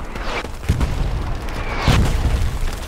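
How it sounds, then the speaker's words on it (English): Mortar shells explode in Hell Let Loose with two heavy booming impacts, each a deep, loud thump with a rumbling tail, over a steady wash of battlefield noise and with no speech. "It for sure got hit with mortars"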